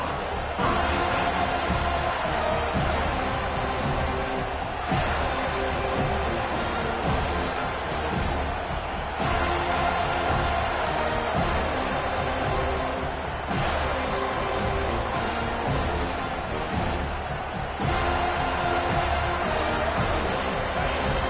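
Stadium crowd cheering in the college football video game NCAA 25, a steady loud roar that runs the whole time, with periodic swells and a commentator talking over it.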